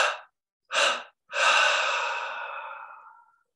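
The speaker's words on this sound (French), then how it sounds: "3 expirations par la bouche et le nez." Three deep exhalations through mouth and nose during a guided meditation: two short breaths followed by a long, slowly fading sigh, close and clear with silence between them.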